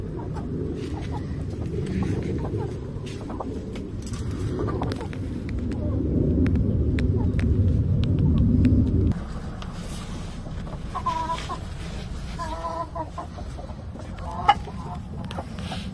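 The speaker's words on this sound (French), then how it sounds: "Petite poule Brahma noir et argent." Small black-and-silver Brahma hens in a poultry yard cluck and murmur nearby, with a thick layer of flock noise that thins halfway through, leaving scattered short calls.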